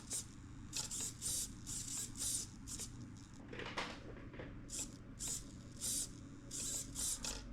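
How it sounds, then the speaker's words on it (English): Small servo motor whirring in short repeated bursts inside a TRX-4M Defender RC truck, each burst a brief high buzz separated by pauses, fairly close and moderately loud over low background hum. "I think the servo is working."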